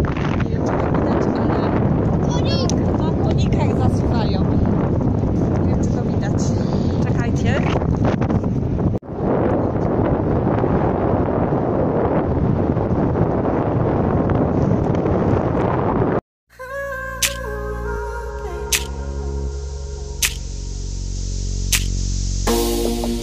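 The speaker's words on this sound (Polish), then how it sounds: "Jest taki zimny wiatr dzisiaj" Cold wind gusts across the microphone by the sea, a loud, continuous roaring buffet that briefly drops out before other sounds take over near the end.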